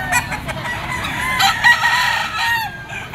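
A bull stag rooster crows at a busy poultry pet market, one long strained crow rising and falling over faint crowd noise and other birds in the background.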